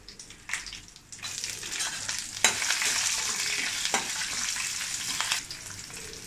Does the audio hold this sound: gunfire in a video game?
no